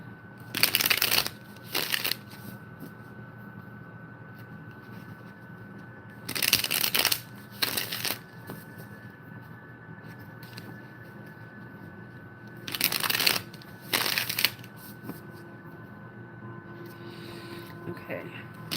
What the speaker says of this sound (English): ooh, I hate shuffling with rings on.